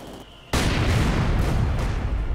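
Artillery and gunfire in the Company of Heroes 2 video game as a mortar half-track fights an advancing Soviet force, with a sudden loud blast opening into a dense, sustained rumble of explosions and shots.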